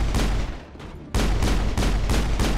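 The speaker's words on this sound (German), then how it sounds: "Garrus, geh aus der Schusslinie" Gunfire in the video game Mass Effect: a burst of shots, a short lull, then several loud rapid bursts of blasts in quick succession, close and dominant.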